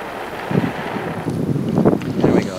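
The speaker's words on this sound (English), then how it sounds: "right now it's super, super windy" Strong outdoor wind buffets the microphone in a steady, loud rumble with gusty swells throughout.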